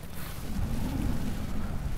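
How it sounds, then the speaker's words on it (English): Rain and howling wind batter a winter tent at a wild camp in the Lake District, a dense, steady low roar with gusty swells. "Still raining and the wind's howling a little bit now."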